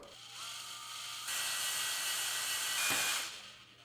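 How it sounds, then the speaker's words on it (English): A high whirring drill runs steadily, its pitch rising as it bites through the metal rivet on a Samsung freezer defrost heater drain probe, then winds down after a few seconds. "drill out the rivet on the drain probe"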